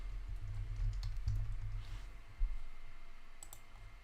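Soft, quick clicks of typing on a computer keyboard, faint and close, in a short irregular run over a low hum.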